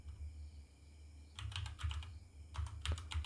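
Typing on a computer keyboard, two quick bursts of soft, close key clicks separated by a short pause, quiet and alone without talking.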